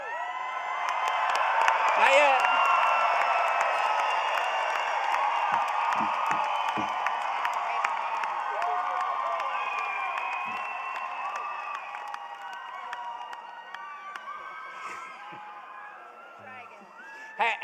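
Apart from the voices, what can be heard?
graduates and families cheering after cap toss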